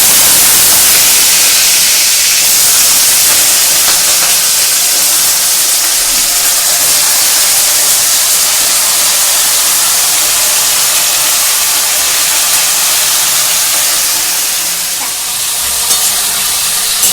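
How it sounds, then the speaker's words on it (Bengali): Cut potatoes sizzling loudly in hot oil with fenugreek and fennel seeds, a dense, continuous frying hiss that holds steady for the whole stretch, with no talking. "এবার কিন্তু আমি এই যে কেটে রাখা আলুগুলো কিন্তু আমি এর মধ্যে দিয়ে দেব।"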